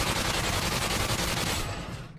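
Rapid automatic gunfire rattles continuously from the Call of Duty airport shootout in the video game, a dense, loud volley that fades at the end.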